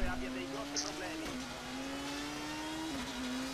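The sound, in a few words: rally car engine in video game WRC 4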